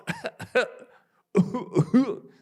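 A voice imitates an animal's cough with rough, throaty bursts, two clusters separated by a brief pause.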